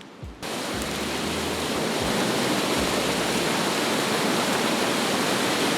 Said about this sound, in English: Now I'm gonna go get audio of the water.